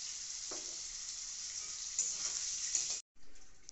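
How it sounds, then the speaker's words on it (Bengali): Potatoes fry in hot oil with salt and turmeric, a bright continuous hiss and crackle close up, briefly cut off near the end before resuming. "এরপরে আমরা আলুগুলো একটু ভেজে নিচ্ছি"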